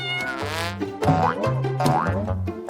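A kitten gives a quick run of high, wavering meows, close and fairly loud, one after another with short pauses.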